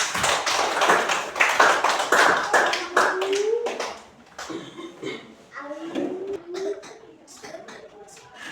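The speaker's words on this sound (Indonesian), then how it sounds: "Kita kasih aplaus dulu buat semua." A fourth-grade elementary classroom bursts into a loud, dense round of clapping for the students lasting a few seconds, which then fades as voices carry on talking.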